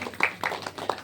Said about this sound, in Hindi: बहुत जोरदार तालियां बजा दीजिए।